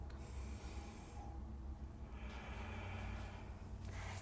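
Slow, deep breaths during a yoga reverse plank, an audible airy inhale and exhale close to the microphone over a soft background hiss.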